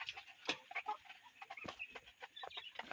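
Busy clucking and chirping from a group of Tiger chicken chicks, a quick, irregular patter of short calls close by, with no talking.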